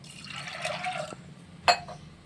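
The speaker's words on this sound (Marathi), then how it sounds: "आता याच्यात आपल्याला टाकायचे पाणी" Water pours into a pot of soaked, washed chana dal, a gurgling rush for about a second, then quiet, followed by a short sharp splash near the end.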